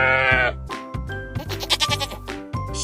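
A sheep on a farm gives a loud, wavering bleat at the start, followed by further bleats over a steady background of cheerful music.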